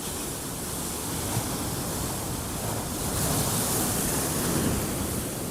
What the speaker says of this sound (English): There's plenty of swell in the water.